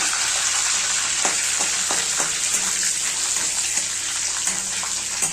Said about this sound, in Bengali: এখন আমি একটু ফোড়নে অ্যাড করবো হচ্ছে জিরা দিব আর হচ্ছে শুকনো লঙ্কাটাও অ্যাড করবো